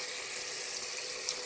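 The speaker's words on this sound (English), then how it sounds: "I'm going to catch some water in my pressure cooker" Water running from a tap into a pressure cooker, a steady hissing splash held at an even level for the whole moment, close and alone.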